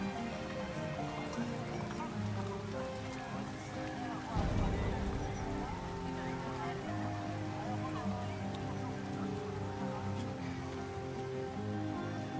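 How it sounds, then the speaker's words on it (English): Steady rainfall in the survival city-building video game Farthest Frontier, a constant patter heard under a voice, with a soft thud partway through. "Oh, lots of rain."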